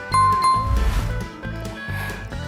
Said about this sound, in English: Ding dong ding! Emergency! Chicken Little yelled, pulling the bell rope at the school tower as hard as he could.